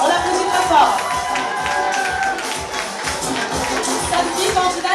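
A pageant audience at the Miss East Africa 2015 evening applauds loudly for contestant number ten from Burundi, a continuous crowd clapping with some cheering and chatter underneath.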